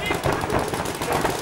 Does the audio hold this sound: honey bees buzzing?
no